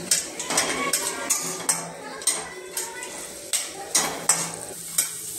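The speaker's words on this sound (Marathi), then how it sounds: "छान असे ब्राऊन होईपर्यंत आपण हे तेलामध्ये चांगले तळून घेऊया" Peanuts fry in oil for kanda pohe while being stirred, a steady sizzle punctuated by about a dozen rhythmic metallic scrapes and clinks of a spoon against the pan.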